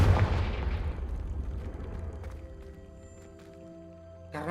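A Confringo fire spell goes off in Hogwarts Legacy: a loud booming blast at the start that rumbles and decays over several seconds, with a sharp burst returning at the very end.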